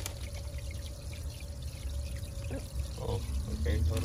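Pond water pours into a container with a steady splashing gush outdoors, louder toward the end, while people talk nearby.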